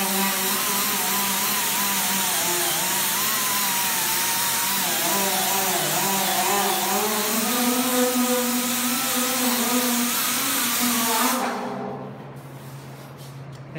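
A grinder fitted with a maroon medium-grit abrasive disc sands a rusty car fender, a loud steady whine with shifting pitch running continuously, then winding down near the end.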